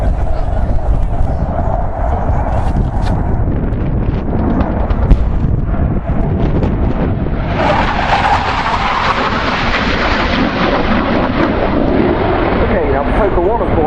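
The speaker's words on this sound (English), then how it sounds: "that's going to be a guns attack, the Mauser" Tornado GR4 jet roaring continuously through a guns attack with its Mauser 27mm cannon, a dense broadband rush that swells sharply louder partway through, with wind buffeting and speech over it.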